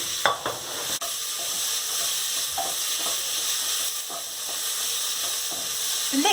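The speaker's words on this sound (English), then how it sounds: "Literally mix all the ingredients together, saute it." Dandelion and stinging nettle being sautéed in a kitchen pan, giving a continuous hissing sizzle with a few soft stirring scrapes and a sharp clink near the start.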